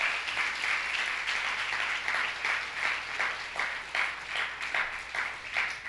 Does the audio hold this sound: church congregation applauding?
yes